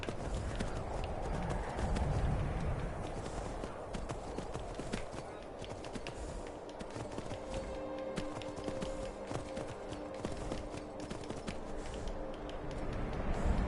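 Horse hooves galloping in the video game Skyrim, a steady rapid clip-clop rhythm running continuously for the whole stretch, fairly close and moderately loud.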